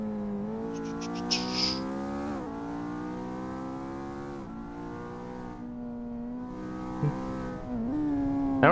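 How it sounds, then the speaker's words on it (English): A Mazda RX-7 in the Assetto Corsa racing game, its rotary engine droning steadily and revving in rising and falling sweeps, heard over a nearer car's engine tone. "I hear the RX-7 down over there."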